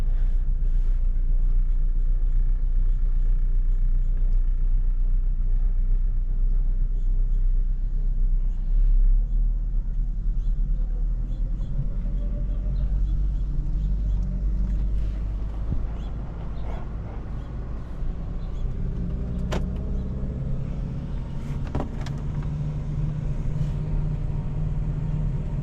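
A car engine idles and putts along at low speed, a steady low rumble close by with slight surges as the clutch engages, continuous throughout with no talking.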